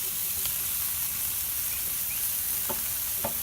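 Broccoli and onions sizzling in a Lodge cast-iron grill pan, a steady close frying hiss with a few brief scrapes from stirring.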